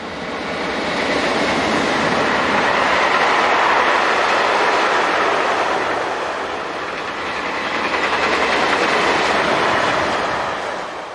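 Container train hauled by an MRCE Dispolok locomotive paired with a Class 185 rolls past on a European line, a loud sustained rumble and rattle of wagons that swells, eases slightly, then swells again.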